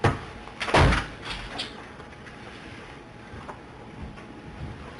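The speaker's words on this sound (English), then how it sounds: "Slammed that down pretty hard. Sorry, he threw papers." Papers thrown and slammed down on a table at a Board of Works meeting give one loud, flat slap near the start, followed by room noise and faint rustling.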